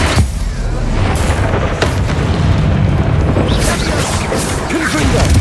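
Confringo fire spell blasts in Hogwarts Legacy combat, a continuous loud rumbling boom and roar with scattered crackling impacts, dense and close throughout, with a voice faintly mixed in.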